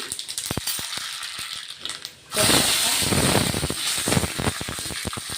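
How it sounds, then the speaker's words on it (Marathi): Crackling pops of mustard seeds in hot oil, then a sudden loud burst of hissing sizzle that continues with scattered sharp pops. "आता आपण फोडणी देऊन घेतोय. बघा, तेल गरम झालेलं आहे. मोहरी"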